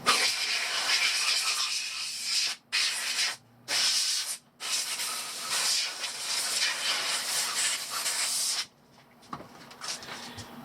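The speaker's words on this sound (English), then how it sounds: "So let's use a little canned air here." Canned air hisses in several bursts into the opened casing of a Sharper Image Ionic Breeze air purifier, with short pauses between sprays and a steady close hiss, then a quieter tail.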